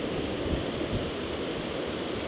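Wind and surf on a Boracay beach make a steady, loud broadband rush that holds without a break, with low rumbling swells beneath and no voices.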